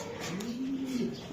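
A male racing pigeon gives a single soft, rising-and-falling coo, close and quiet against low background noise.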